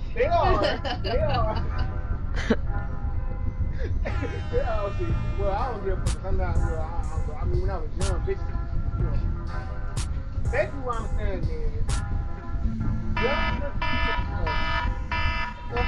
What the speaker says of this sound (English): That's the alarm though.